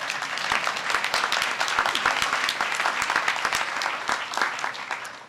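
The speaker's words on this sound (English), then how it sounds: "How about a round of applause for our audience?" An audience at a White House event on equal pay and workplace flexibility claps in sustained, dense applause that holds steady for several seconds before starting to thin out.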